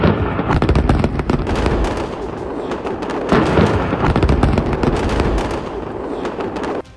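Air strike explosions over Beirut: a smaller blast followed by a rapid, continuous barrage of loud crackling booms and bangs, dense and sustained throughout, heard alone without voices.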